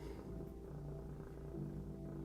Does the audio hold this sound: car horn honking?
no